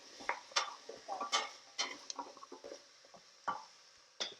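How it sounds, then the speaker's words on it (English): Parsnip and apple pieces tumble into a pot of softened, sweated onion for a homemade soup, giving a handful of scattered knocks, rustles and scrapes, moderately close, with no talking. "now I'm going to add the parsnip and the apple"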